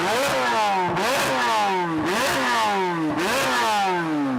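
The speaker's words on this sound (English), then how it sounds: "The new Corvette Z06 has one of the best sounding V8s I've ever heard." A Chevrolet Corvette Z06 V8 engine revs hard in four repeated rising pulls, each climbing then dropping back. It is loud and close, with no voices over it.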